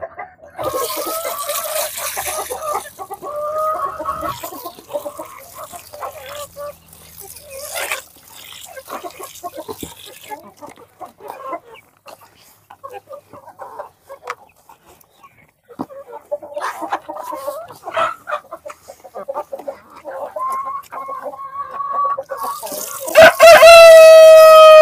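Chickens and roosters at feeding time cluck in bursts, with a rooster's crow rising near the end; some voice is audible in between.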